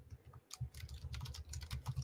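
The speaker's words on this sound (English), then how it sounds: "She's typing her tweet at me." Typing on a computer keyboard, steady rapid clacking of keys with a few heavier thuds, close to the microphone and heard alone without voices.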